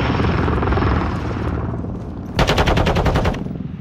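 Helicopter gunship in Call of Duty Modern Warfare 2 multiplayer: a steady loud rotor drone, then a rapid burst of heavy automatic fire for about a second near the end, close and dominant with no talk.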